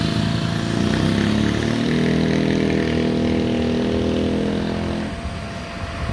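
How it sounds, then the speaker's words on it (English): A car wash vacuum runs steadily across the street in the Philippines, a droning motor hum with low harmonics that holds for about five seconds and then drops away. "They have their little vacuum going all the time."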